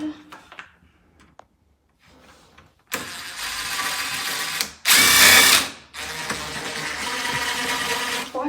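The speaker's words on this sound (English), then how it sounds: "Why can I not use a drill?" A power drill runs during a renovation of a 1950s ex-council house in loud, sustained bursts, with a short, sharper burst in the middle. It comes after a few quiet clicks and knocks.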